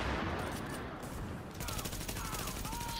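Gunfire in Tom Clancy's The Division, a rooftop firefight with a shotgun among the weapons, dense overlapping shots and bursts running throughout at steady loudness.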